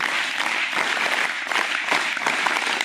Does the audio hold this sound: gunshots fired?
no